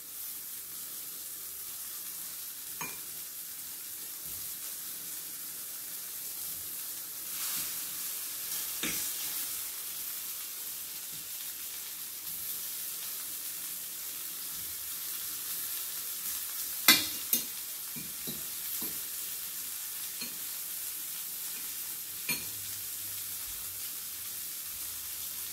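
Breaded mushrooms fry in a pan with a steady, hissing sizzle throughout, broken now and then by faint clicks and scrapes as the pieces are turned, close and moderately quiet with no talking.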